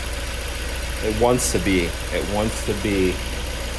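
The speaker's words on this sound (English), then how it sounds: "I know this engine wants to be quieter" An NB Mazda Miata engine idles with a steady low drone after an ATS chemical oil system treatment, while a person talks close over it.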